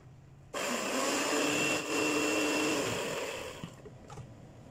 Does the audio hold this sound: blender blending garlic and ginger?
yes